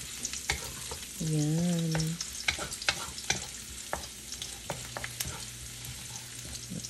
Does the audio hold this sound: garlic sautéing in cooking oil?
yes